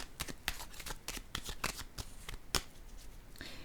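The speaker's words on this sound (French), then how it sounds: "Je vais déposer une carte sur la carte bleue." Tarot cards being handled and laid down on one another, a quick series of soft, close papery flicks and slaps in an otherwise quiet room.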